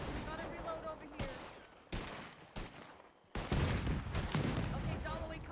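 Gunfire in a Wild West roleplay video game, bursts of shots crackling repeatedly across the stretch, loudest in the second half, with voices talking over the shooting.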